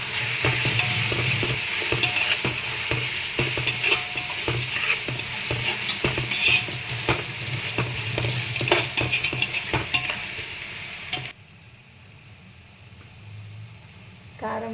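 Egg biryani masala fries in a pan as turmeric is stirred in, giving a loud, continuous sizzle broken by repeated scraping strokes, until the frying noise suddenly drops away near the end.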